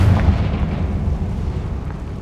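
Spell blasts from Bombarda and Confringo in the Hogwarts Legacy video game: a continuous rumbling, booming barrage of explosive impacts, loud and dense with low-end thunder throughout, no talking.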